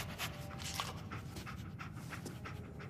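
A dog pants in Fallout 4 while tracking a scent, quick rhythmic breathing up close and fairly quiet, continuing steadily with no voices over it.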